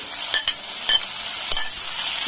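A spoon stirs fried potatoes with ginger paste in a pan, producing a handful of sharp utensil clinks and scrapes over a soft, steady sizzle.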